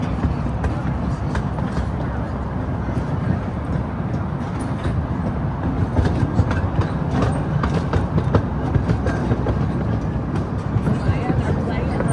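Steady rumble and rattle of the Cape to Cairo Express zoo train ride at Brevard Zoo rolling along, with faint clacking and voices murmuring over the continuous noise.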